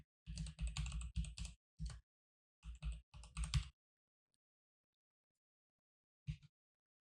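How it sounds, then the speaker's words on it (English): Keystrokes on a computer keyboard typing a short phrase, in quick clustered bursts with brief pauses, then a final lone pair of taps after a silence. "I'm going to type in glowing torus."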